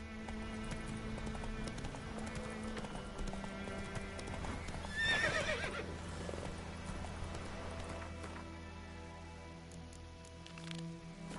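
The horse Roach galloping in The Witcher 3, with a steady rhythm of hoof clip-clops at moderate volume, a whinny near the middle and faint ambient background.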